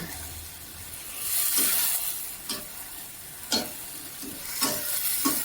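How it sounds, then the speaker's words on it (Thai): Vegetables and fish tofu stir-fry in a pan: a soft background sizzle broken by periodic scraping strokes of a spatula, close by and fairly quiet, with no speech. "การผัดผัก เหมือนผัดผักทั่วไปอะค่ะ"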